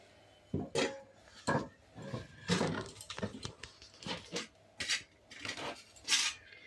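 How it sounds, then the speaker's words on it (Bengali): Vegetables being cut on a board at home, a run of sharp irregular knocks and chops with small clinks, close and fairly quiet, with no talking. "ডিমগুলো সিদ্ধ হতে থাক, ততক্ষণ আমি একটু সবজিগুলো কেটে নিই"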